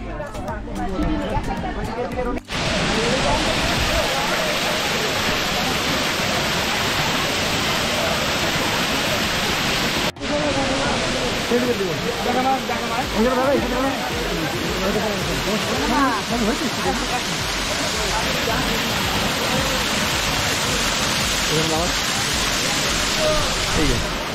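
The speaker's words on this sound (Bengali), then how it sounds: "ফলসের জলটা এখানে জমা হচ্ছে, দারুণ লাগছে।" Bamni waterfall at Ajodhya Pahar gives a loud, continuous broadband rush of falling water that fills the whole clip, with a brief dip near the start.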